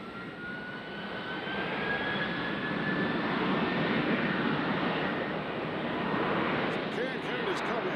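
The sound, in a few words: United airliner jet engines taxiing at Nashville airport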